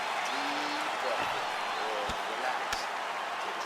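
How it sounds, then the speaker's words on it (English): Crowd applause and cheering in an arena after a round of a UFC mixed martial arts fight, a steady broad roar filling the hall with a few sharp claps and thuds standing out. "So the crowd voicing its appreciation after that round"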